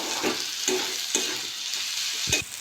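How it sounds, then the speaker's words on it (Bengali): Onion and capsicum frying in hot oil for a chicken roll, a steady loud sizzle broken by a few scraping stirs of the pan, with no voices. "ওই তেলে আমি পেঁয়াজ দিয়ে দেবো পেঁয়াজটা একটু ভেজে নেবো"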